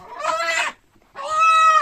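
Two loud, harmonic chicken calls from a rooster and hen, separated by a brief pause, close by, like a hen's drawn-out squawk.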